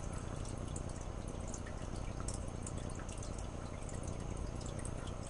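Gentle water movement in an axolotl tank, a constant faint trickling and dripping burble with scattered light splashes, steady and close throughout.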